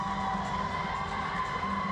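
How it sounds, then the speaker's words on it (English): Arena crowd cheering and whooping during a balance beam final at the gymnastics World Championships, a dense, continuous roar of many voices sustained at even loudness throughout. "I think the crowd's rather enjoying it."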